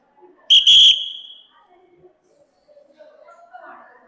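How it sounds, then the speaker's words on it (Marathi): A loud, shrill whistle blown once in a short half-second blast, close up, followed by faint voices in the background. "जशी मी शिट्टी वाजवली का सगळे लोक माझ्याकडे बघता"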